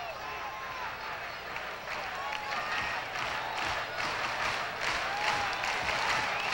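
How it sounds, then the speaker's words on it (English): A baseball stadium crowd at a 1987 Tigers versus Yankees game applauds and cheers steadily, with a broad continuous roar of many hands clapping that swells slightly toward the end. "this crowd is very much into the ball game right now"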